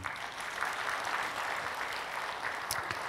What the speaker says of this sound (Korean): 좋으면 박수 해줘요.